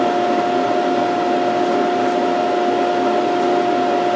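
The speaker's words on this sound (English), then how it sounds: "Vacuum." A shop vacuum runs steadily in a woodworking shop where a cherry and maple picture frame is being made, a loud continuous motor whine with a sharp tonal hum and no breaks.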